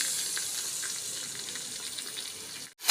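Onions with ginger and garlic frying in hot oil give a soft, steady hiss and crackle, fairly quiet and close, broken by a brief pause near the end before a sharper burst.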